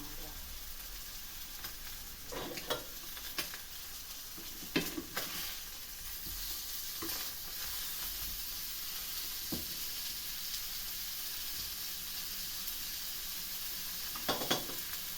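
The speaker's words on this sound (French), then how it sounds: "Je vais fermer la viande." Meat sears in a pan with a faint, continuous sizzle, broken by a few soft scraping stirs and clinks, quiet and close.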